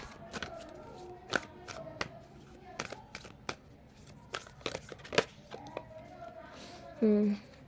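A tarot card deck is shuffled in a series of brisk riffling and slapping bursts, fairly close, with a short tonal sound near the end and no talking.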